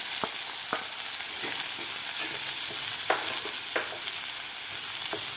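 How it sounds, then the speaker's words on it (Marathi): Chopped onion sautés with fried whole spices for masala dahi bhindi, producing a loud, dense frying hiss with repeated sharp spatula taps and scrapes against the pan, close and steady with no talking. "कांदासुद्धा आपल्याला दोन ते तीन मिनिट सॉफ्ट होईपर्यंत परतून घ्यायचा आहे"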